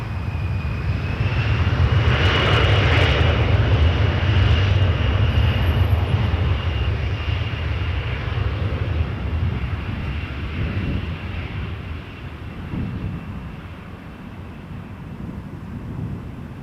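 A Jazz airliner takes off at Toronto Pearson Airport, a loud, sustained jet engine roar with a steady high whine that slowly fades as the aircraft climbs away.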